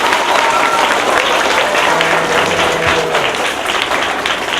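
A crowd at a Ghana International School visit by the CAF president and executive committee breaks into loud, sustained applause, with dense clapping filling the whole stretch and a faint hum underneath.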